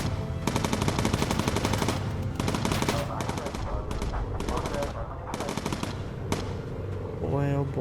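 Sustained machine-gun fire from a bomber's top turret in the aerial combat game Bomber Crew, dense rattling bursts broken by brief gaps across the whole stretch, loud and near, with a voice talking underneath.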